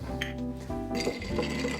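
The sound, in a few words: stirring ice in a cocktail mixing glass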